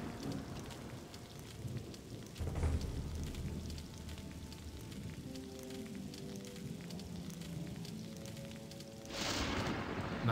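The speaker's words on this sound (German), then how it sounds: "Warum gewittert es jetzt so sehr?" Thunderstorm with rain in the video game Gothic 2: quiet, steady rainfall with a low thunder rumble early on and another louder crash near the end.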